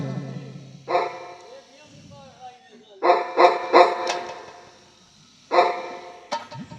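A tied-up dog barks in loud, repeated bursts at close range, with whimpering sounds between the barks.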